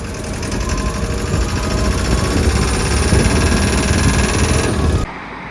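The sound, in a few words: lorry engine running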